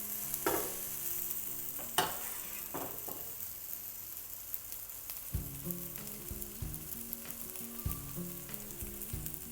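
Kebabs cooking in a covered non-stick pan over medium-high flame give a soft, steady sizzle, with a few clattering knocks early on and a lower bubbling rumble taking over in the second half.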